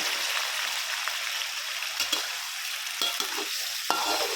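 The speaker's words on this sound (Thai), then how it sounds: "มันก็จะผัดนะคะ" Pork blood being stir-fried with garlic in a pan, a steady loud sizzle with scraping stirring strokes and a few sharper clatters near the end, no voices.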